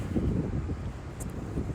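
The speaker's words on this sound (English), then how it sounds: "it's so windy out here" Steady wind buffeting a microphone outdoors in a residential neighborhood, a continuous low rumbling roar that stays loud and fairly even throughout, with no voices.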